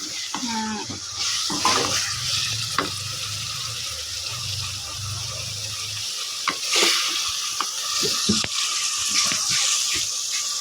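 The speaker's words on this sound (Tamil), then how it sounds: "தக்காளியை வதங்க வைக்கணும். நல்லா கிண்டிக்கலாம்." Tomatoes sauté in a pan for crab gravy, a hissing sizzle with intermittent stirring scrapes and clanks, close and fairly loud; a low hum in the first half cuts off partway through.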